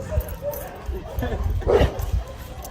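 Several dogs bark and yip in short bursts, close by and mixed with human voices and movement noise.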